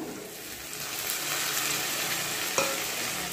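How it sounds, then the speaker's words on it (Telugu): Small tomatoes fry in a pan for Nellore-style fish curry, a close, steady sizzle with stirring scrapes and a sharp clatter near the end. "టమాటాలు వేస్తున్నాను ఫ్రెండ్స్ చూడండి"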